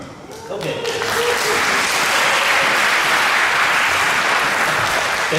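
Audience at a 2024 Taiwan international coral reef symposium bursting into applause after a sung performance, the clapping swelling within the first second and then holding loud and dense throughout.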